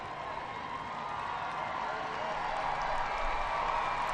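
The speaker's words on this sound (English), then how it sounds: "Crowd getting excited, listen to that support." A stadium crowd at an NWSL women's soccer match between Washington Spirit and Angel City, a far-off, steady roar of cheering that rises slightly, with a commentator talking over it.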